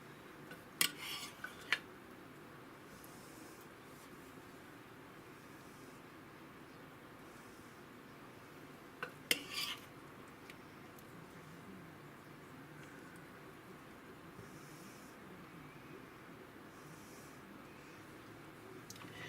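Metal utensils clink against a crock pot of Mongolian pork in two brief clusters of sharp clatter, separated by a long stretch of quiet background hum.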